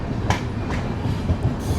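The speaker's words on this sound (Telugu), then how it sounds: "మన ట్రైన్ నౌపాడ జంక్షన్ నుంచి అయితే బయలుదేరిపోయింది." The Prashanti Express pulls out of Naupada Junction with a rolling rumble and a few sharp clickety-clack wheel knocks over the rails, close and loud.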